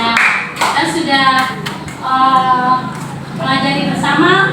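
Classroom students clap in a brief round of irregular claps, heard under and between speaking voices.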